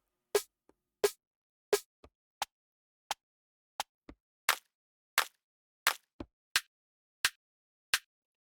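Four separate snare sample layers sounded one after another, giving a sequence of crisp, short percussive hits of varying brightness and weight, some with faint softer ghost hits between, alone and without speech.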